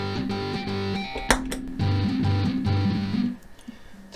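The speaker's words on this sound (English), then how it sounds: "I'm also adding octave effects and heavy distortion in the zoom" Heavily distorted, low octave-shifted notes from an electric ukulele through a Zoom effects unit, a buzzy riff with a sharp pick attack, stopping near the end.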